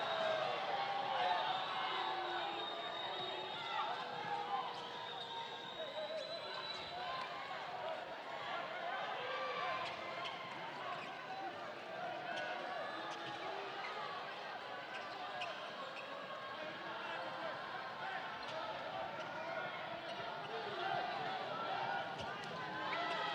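A basketball arena crowd at a FIBA Melanesian Cup game between New Caledonia and Solomon Islands keeps up a steady murmur throughout, with balls bouncing and sneakers moving on court while a commentator talks over it.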